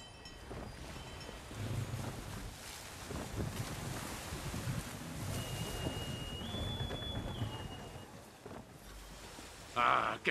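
A sailing ship moves at sea in Assassin's Creed III, with steady wind and rolling waves forming a broad rushing wash, a brief tone rising in the middle and a louder splash near the end.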